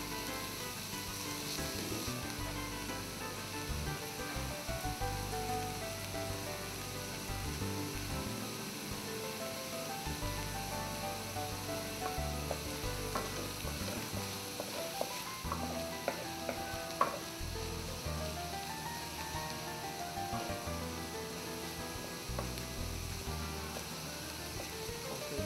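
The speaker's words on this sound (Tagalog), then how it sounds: "Palalabasin natin yung tamis ng sibuyas na yan, para maalis yung anghang sa paggigisa" Onions sautéing in cooking oil for a tofu, shrimp and kinchay dish, a steady sizzle and frying hiss with intermittent stirring and scraping, continuous and close throughout, no talk.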